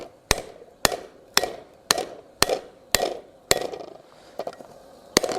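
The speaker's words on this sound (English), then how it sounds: "hammering the bottom down" Hammer blows on a hot steel skillet blank laid on a block: seven or eight sharp metallic strikes in an even, steady rhythm, close and loud, each ringing out briefly before the next, with no talking.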